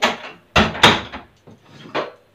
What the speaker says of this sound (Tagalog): Isara na lang natin muna yung pinto